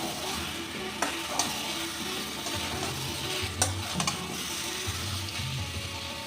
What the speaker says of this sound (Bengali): খুব ভালো করে ভাজা হয়ে গেছে, তেল ছেড়ে দিয়েছে। আর দিয়ে দেব এই মাংসটা